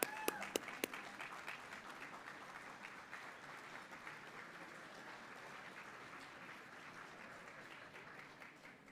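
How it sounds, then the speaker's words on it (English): Steady crowd applause fills a banquet hall at a bankers' hall of fame dinner, faint and somewhat distant, opening with a few sharp individual claps before settling into an even wash. "So can we get a round of applause for that?"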